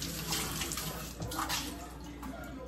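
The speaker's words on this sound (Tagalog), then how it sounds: "punuin mo na lang ng tubig" Water pouring from a tap into a tumbler bottle as it fills, a steady splashing stream heard close, moderately quiet and continuous without talk.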